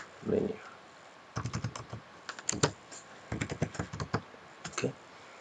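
Bursts of quick clicking keystrokes on a computer keyboard while someone types in Microsoft Word, close and clear, with a short muffled sound at the start and pauses between flurries.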